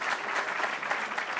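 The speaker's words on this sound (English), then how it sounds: "Let's give her a big round of applause" A town hall audience claps for the housing commissioner, dense continuous applause from many hands, fairly close and even throughout.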